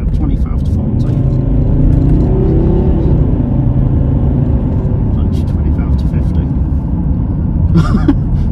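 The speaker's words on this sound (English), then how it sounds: "Let's do a little bit of an acceleration spurt here, 25 to 40." A 2013 Volvo XC60 D5 R-Design AWD Geartronic Polestar accelerates from 25 to 40, with a loud, steady low engine and road rumble from inside the cabin and a faint rattle.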